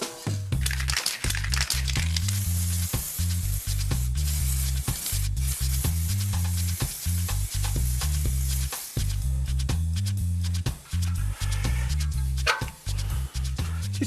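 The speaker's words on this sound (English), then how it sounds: "give the whole thing a spray of aluminium paint" Aerosol can spraying aluminium paint onto a metal lamp in a workshop, short hissing bursts repeated over a low rhythmic background beat, close and fairly loud.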